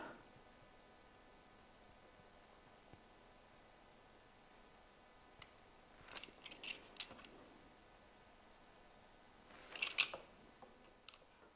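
Scissors cutting paper for a Christmas village craft, faint and close: a few soft snips around the middle, then a short cluster of sharper snips near the end, over a quiet hiss.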